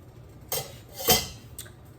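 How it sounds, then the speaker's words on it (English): Metal utensil clinking and scraping in a pan while two melted fats are stirred together, a few short separate clinks with quiet gaps between them. "So I'm just mixing these 2 fats together."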